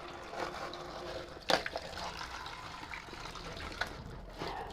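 Water from a tap running while lote and pomfret fish are rinsed at home, a soft, continuous trickle with a few quick splashes and knocks as the fish are handled.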